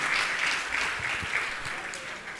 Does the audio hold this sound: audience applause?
yes